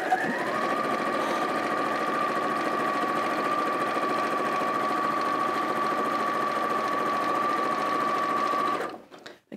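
A sewing machine stitches fabric in a quilting studio, running as a steady, even mechanical whir for about nine seconds before stopping.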